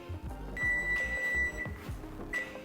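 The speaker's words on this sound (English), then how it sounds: "Once your timer comes off" A kitchen timer for baking biscuits beeps with a high, thin electronic tone in two rings over a low rumbling background.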